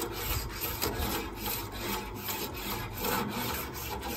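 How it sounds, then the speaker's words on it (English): A metal scraper scraping barbecue grill grates and rails in steady back-and-forth strokes, a continuous loud rasping rub close up with a regular rhythm and no talk. "Okay, scraper does what it's supposed to do, and it does a pretty good job cleaning the rails"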